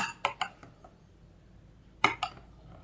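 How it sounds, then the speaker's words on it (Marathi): Soaked basil seeds are stirred into muskmelon custard in a bowl with a spoon, producing a few light clinks and scrapes against the dish, two small clusters of taps separated by a quiet pause. "आता आम्ही हे शब्द्या बी घालून बरे करून मिक्स करून घ्या"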